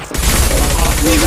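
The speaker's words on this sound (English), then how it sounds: "Taking fire." Dense, loud rapid gunfire in a video game, a continuous burst of shots right up close filling the whole short moment.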